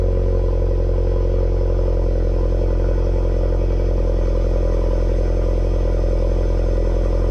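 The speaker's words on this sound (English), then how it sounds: "This is a cold start." A VW Golf R with an aftermarket exhaust, cold-started in race mode, rumbles loudly and throatily at close range, a deep burbling drone with a faint clatter and no talking.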